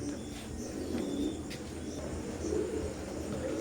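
A pair of Teddy pigeons of Omani bloodline coo softly and continuously at close range, low rolling calls over a steady background hum, with faint talk at times.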